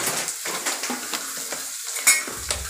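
Onions frying with turmeric in a pan, a close hissing sizzle broken by stirring scrapes and a sharp clink of utensil on metal, brief and steady, no talk.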